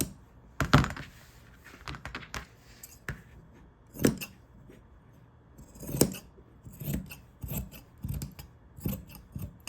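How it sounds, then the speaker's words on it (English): Scissors snip through plush minky fabric on a diagonal while a baby blanket is trimmed, a run of close, crisp cuts with soft rasping slides between them, each snip standing alone. "I'm gonna cut it diagonally"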